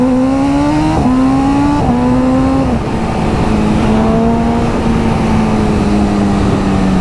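A BMW M Sport S1000 RR motorcycle roars loud and close while ridden, its engine note stepping up through quick gear changes before settling into a sustained high drone.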